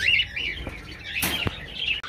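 Cockatiels in an aviary fluttering and flapping their wings, with soft rustling bursts and faint chirps close by.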